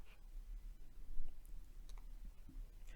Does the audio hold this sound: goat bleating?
no